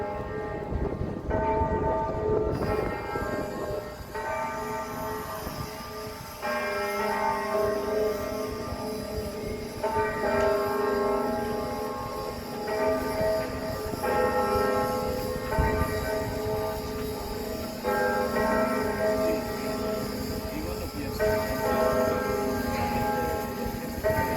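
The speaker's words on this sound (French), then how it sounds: "Juste écouter le son des cloches." Church bells ring continuously for a long stretch, their resonant tones overlapping and swelling, loud and close with no talking.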